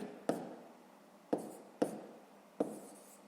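Numbers being written by hand during a math exercise, four separate sharp taps and scratches of a pen on paper at an uneven pace, close and quiet, with no talk.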